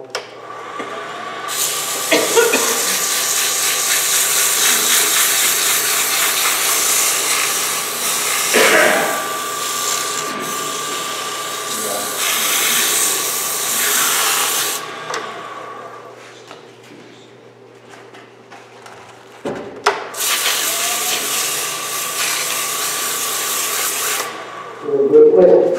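A wooden piece is power-sanded in long, loud, steady bursts broken by short pauses, each run of whirring abrasion starting and stopping abruptly.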